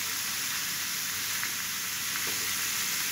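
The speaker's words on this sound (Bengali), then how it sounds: "তারপরে এই পোলাওয়ের চাউলগুলো এর মধ্যে দিয়ে দেবো, দিয়ে সুন্দর করে ভেজে নেব" Polao rice fries in hot oil with a loud, continuous close-up sizzle like steady hiss, broken only by a few faint scraping stirs, with no voices.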